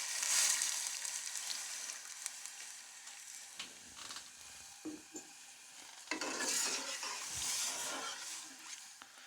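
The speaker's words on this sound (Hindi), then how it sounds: "अभी हमने इसमें दूध ऐड कर देना है। 1 लीटर दूध है ये।" A litre of milk goes into a pan of frying vermicelli for sheer khorma, giving a loud hiss and sizzle with stirring and scraping, surging again near the end; no voices.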